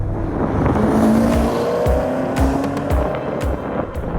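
Car tires squealing and slipping on a cold road in freezing temperatures, a loud continuous screech over steady engine noise with brief thumps, with no pauses.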